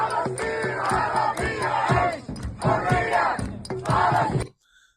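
A protest crowd chants loudly in unison, with rhythmic shouted phrases repeating in surges before breaking off abruptly into near silence at the end.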